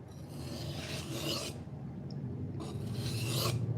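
Knife blade stroked across a 400 grit whetstone from an Amazon Basics set, giving steady rasping scrapes in two long bursts with a short quieter pause between, close and fairly loud with no talking.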